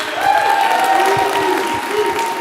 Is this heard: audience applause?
yes